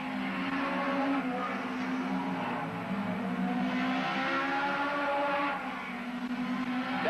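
Hot rod race cars circle Brafield raceway in 1983, their engines a steady, fairly distant roar with shifting harmonic whines as they pass, continuous throughout with no talk.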